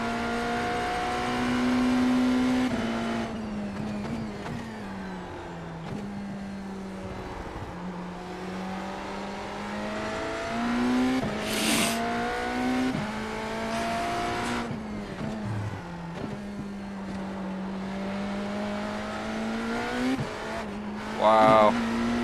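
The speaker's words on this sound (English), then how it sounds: "it's very hard to control the car." A hypercar races around Daytona in a racing video game, its engine droning steadily with rising and falling pitch through gear changes, with brief tire squeals and a voice talking over the continuous loud motor.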